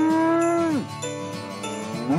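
Cows on a farm letting out a long, loud moo that slides downward, then a second lower call, with a faint jingle in the background.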